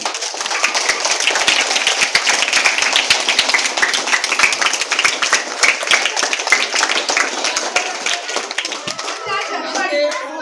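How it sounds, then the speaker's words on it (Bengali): A group of schoolchildren clapping their hands together at a school workshop, a dense, lively patter of many overlapping claps that keeps going steadily, with young voices mixed in. "সুন্দর করে রিনাই হাততালি দিয়ে সবাই চেয়ার করতে হবে হাততালি দিয়ে"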